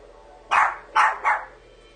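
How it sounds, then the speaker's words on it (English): A dog barks three times close by indoors, sharp loud yaps with a short gap after the first, over a quiet room hum. "I had to stop because, like I said, Daisy was barking"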